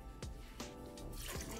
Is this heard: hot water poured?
yes